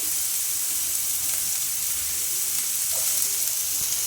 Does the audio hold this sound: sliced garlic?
yes